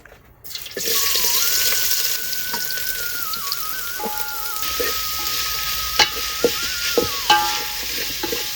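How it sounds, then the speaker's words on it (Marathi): Onion frying in ghee for a vegetable biryani gives a steady, close sizzle that starts after a brief quiet moment, with a thin whine running above it and a few sharp clinks of a utensil near the end. "थोडं तूप टाकू आणि कांदा फ्राय करून घेऊ"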